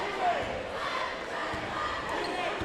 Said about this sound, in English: Crowds are getting loud.